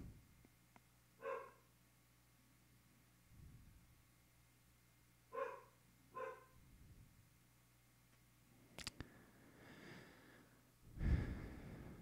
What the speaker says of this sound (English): Really? Dog.